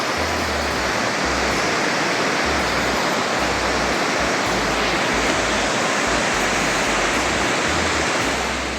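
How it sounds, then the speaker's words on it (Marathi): Loud, constant roar of Dhodhani waterfall near Panvel, Maharashtra, a dense wash of crashing water with low rumbling underneath. "असा सुंदरसा धबधबा"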